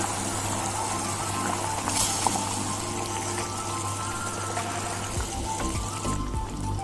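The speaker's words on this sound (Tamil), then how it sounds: "இப்போ வந்து நல்லா கொதிச்சிட்டு இருக்கு" A pot of fish curry simmers steadily with a soft bubbling, liquid hiss and a low hum underneath, continuous and close, with no voices.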